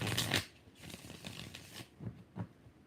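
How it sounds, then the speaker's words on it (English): Tarot cards shuffled by hand, opening with a loud riffling burst, then softer card rustles and two brief slaps near the end, with no talking. "Last shuffle."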